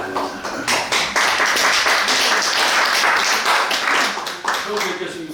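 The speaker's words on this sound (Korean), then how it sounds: "나오실 때 박수로 환영하고 다 들어주시기 바랍니다." Church congregation at an anniversary worship service applauds to welcome a pastor to the front, a dense, steady burst of clapping that fills the room, then tapers off near the end.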